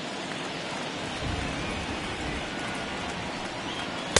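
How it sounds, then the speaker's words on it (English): Rain falling steadily on a ballpark during a Rockies at Giants game in San Francisco, a constant soft hiss with a faint low rumble, unbroken and even throughout, no voices on top. "To me, when it's raining,"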